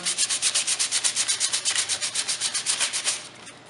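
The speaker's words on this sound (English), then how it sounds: "Just go back to your sandpaper" Close, steady back-and-forth strokes of 150-grit sandpaper on wood, about six per second, scratchy and even, fading out at the end.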